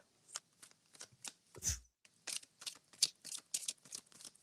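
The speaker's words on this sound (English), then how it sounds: "you've got your tarot cards with you right now, right? Yes, I do. Can you shuffle them and let us hear that?" Tarot cards riffle and snap in a quick, steady series of shuffles, close and crisp, with one heavier thump partway through and no talking.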